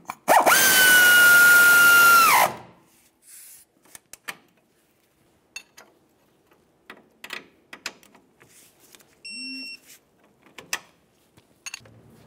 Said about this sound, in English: Start on the mounting nut there. Now let's snug this up and torque it to 30 foot-pounds.